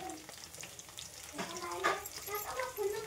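Onion dropped into a hot pan on a home kitchen stove, sizzling and frying with soft stirring scrapes, moderately loud and close, growing a little louder partway through.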